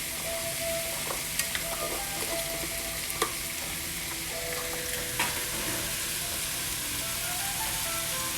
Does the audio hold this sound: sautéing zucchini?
yes